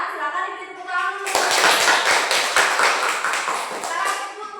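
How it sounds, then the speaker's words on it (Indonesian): A primary-school class claps for a classmate after her presentation, with a sudden burst of lively mixed clapping from many small hands that runs on steadily, loud and close. A voice is speaking just before the applause starts. "silakan diberi tepuk tangan dulu"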